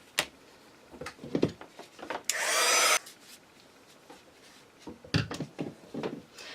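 A heat tool dries black gesso on a junk journal page, blowing in one loud steady burst of under a second between quiet scattered handling rustles and taps.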